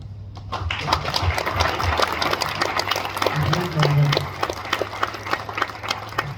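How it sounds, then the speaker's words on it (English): Audience applause for future soldiers at an Army swearing-in ceremony in Provo, a steady dense patter of clapping that fills the room for several seconds, with a low engine-like hum and brief voices underneath. "Let's applaud you again, everyone."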